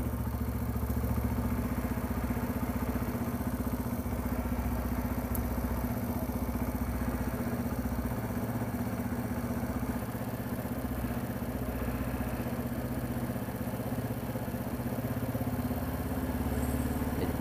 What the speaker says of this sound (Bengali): তো বাইকটা আমরা স্টার্টে রেখেছিলাম